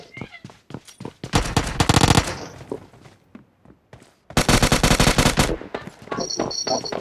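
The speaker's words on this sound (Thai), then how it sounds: "มีคนยิงผม" Gunfire in PUBG Mobile: two loud, rapid automatic bursts of about a second each, separated and followed by scattered single shots, thumps and footsteps.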